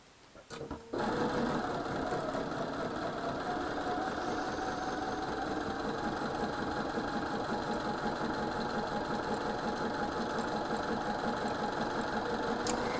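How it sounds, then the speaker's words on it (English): A sewing machine stitches a quilt block, starting after a brief pause and then running steadily and loudly for the rest of the time with a fast, even mechanical chatter and no voices. "And now I'm going to sew on the other side."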